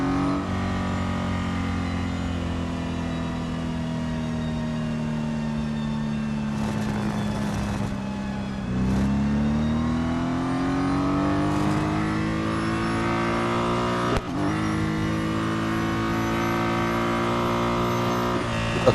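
A race car engine coasts in the Real Racing 3 video game on the Hockenheim circuit, a steady close drone of layered tones that dips and swells slightly with speed changes, with no one talking.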